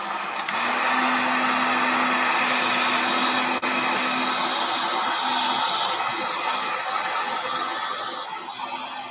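Heat tool blowing on alcohol ink with metallic purple in epoxy resin, a loud steady whooshing hum that runs nonstop close to the mic.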